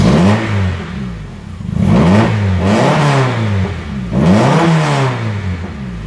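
A 1998 Nissan Pulsar SSS with the non-turbo SR20 engine revving repeatedly, loud and close, rising and falling in three or four surges with no talking.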